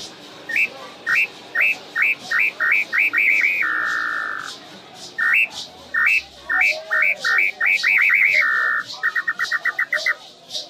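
A Jiquitaiá whistle imitates the call of the iambu bird, sounding as clear, high, rapid chirping trills broken by a few longer held notes, repeated in two close, loud sequences.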